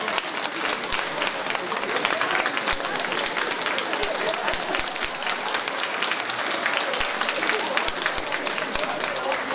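An audience applauds after a stage performance at a birthday celebration in Alytus, a dense, steady clapping of many hands, close and continuous.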